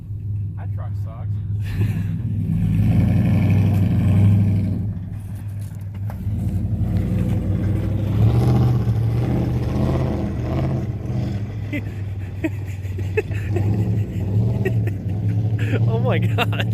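A truck engine with its exhaust catalytic converters removed revs and rumbles in a deep, throaty drone that surges and eases over the stretch, while people talk and react over it.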